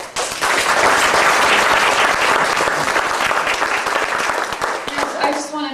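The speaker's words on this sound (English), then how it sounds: "So I applaud them." Audience applause at an annual meeting talk, loud and dense throughout, with many hands clapping steadily before tapering slightly near the end.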